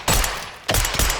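Gunfire in the video game Call of Duty Black Ops 6 comes as two loud, close bursts of rapid automatic shots separated by a brief pause.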